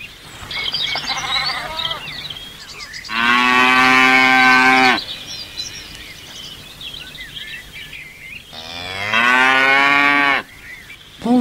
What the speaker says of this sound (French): Bonjour, je suis la vache.